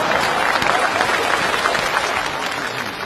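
An audience at a Chinese comedy sketch applauds loudly, a dense continuous clapping that stays full and close before easing slightly toward the end.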